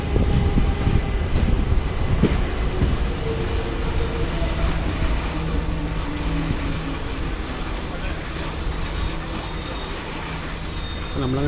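Poorna Express rolls into Karwar station in a continuous loud rumble of wheels and carriages, with faint clatter and a steady low hum running the whole time.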